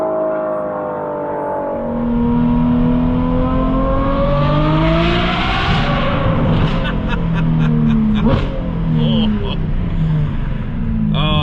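Ferrari F12 V12 engine revving hard and rising in pitch, loud and close, with crackling pops as the revs fall away and a voice speaking briefly alongside.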